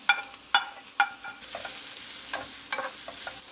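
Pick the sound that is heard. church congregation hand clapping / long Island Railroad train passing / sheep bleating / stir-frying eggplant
stir-frying eggplant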